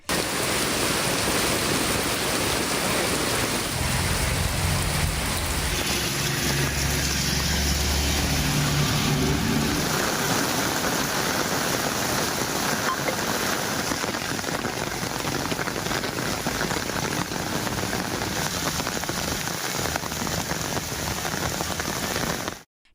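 Heavy rain pours steadily over towns in Ranipet district, a loud, continuous dense hiss of downpour lasting throughout with no voices, only a faint low rumble beneath.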